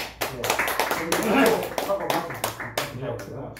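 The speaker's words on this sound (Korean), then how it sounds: "박수 한번 쳐요." Brief clapping from a seminar audience at a church theology academy, several uneven bursts of hands over a few seconds with some voices mixed in.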